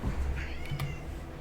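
A pet cat meows several times close by, short mewing calls rising over steady background noise with no talking.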